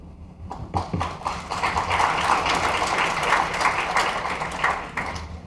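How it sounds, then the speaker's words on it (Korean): An audience at a corporate tech keynote applauds after a demo, a burst of dense clapping that swells, holds for several seconds and then tapers, heard from within the hall. "고맙습니다. 박수 쳐주셔서."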